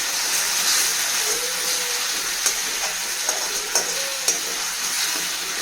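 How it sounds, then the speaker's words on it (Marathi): Raw onion sizzling and frying in a pan for drumstick curry, a steady close hiss with faint stirring clinks and small pops, no voices. "कांदा कच्चा असल्यामुळे त्याला छान भाजून घ्यायचा आहे."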